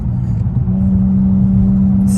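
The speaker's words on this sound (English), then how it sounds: "Let me downshift, give it some revs." Infiniti Q60 engine held at higher revs after a downshift, with a loud, close, steady drone and rumble whose pitch firms up and holds, and no talking over it.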